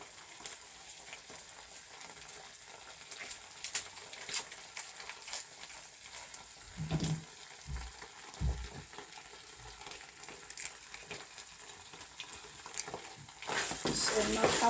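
Spaghetti with seasoning stirred in a pot, giving soft scraping and knocking of utensil against pot with a light sizzle, irregular and fairly quiet, with occasional louder clunks.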